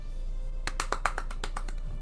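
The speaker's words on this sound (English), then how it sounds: "Underwater clapping." Hand claps sound dull and muffled, as if underwater: about ten quick soft claps in an uneven burst, close and alone over a faint steady hum.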